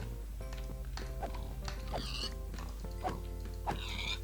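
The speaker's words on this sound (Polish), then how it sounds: "Te świnie ubijajmy po prostu." Pigs oinking in the video game Minecraft, several short grunting snorts repeating at irregular intervals over a steady low background hum and faint game sounds.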